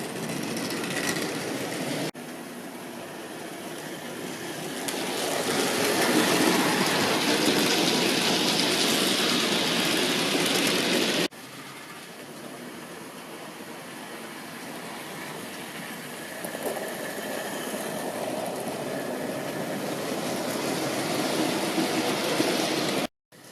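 Hornby tender-drive model locomotive racing along its track at high speed, producing a continuous close-up whirring rumble that dips briefly midway before resuming, with no voices.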